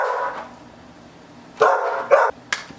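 A dog barking indoors: one bark at the start, then a pause and three loud close barks near the end, with no talk over them.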